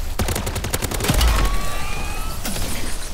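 Rapid bursts of WSP Swarm gunfire in MW3 Zombies, loud and close, crackling continuously for the whole stretch with a heavier thump midway.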